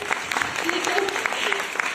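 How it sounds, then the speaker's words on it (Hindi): Audience applause for a best friend named Tripat at a Modicare business gathering, a short burst of steady clapping with a voice speaking over it. "एक बार जोरदार तालियां त्रिपत के लिए हो जाए"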